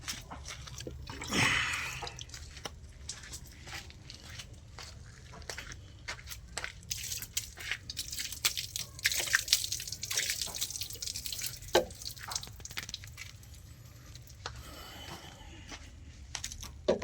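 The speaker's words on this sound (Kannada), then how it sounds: "ನೀರು ಹಾಕ್ತೀನಿ ಈಗ" Water being poured over a tractor part, heard as a steady splashing and trickling with scattered drips, fairly faint and continuous, with no speech.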